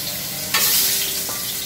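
Potato wedges dropped into hot oil for frying, a broad hiss jumping up suddenly and holding steady as a close, loud sizzle, with a brief stir partway through.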